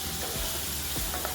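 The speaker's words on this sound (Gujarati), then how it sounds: "આપણે ટામેટાને થોડી વાર ફ્રાય થવા દઈશું તેલમાં શેકાઈ જતા સુધી" Tomatoes frying in hot oil with turmeric for sev tameta nu shaak, a steady close dense sizzle with faint stirring scrapes throughout.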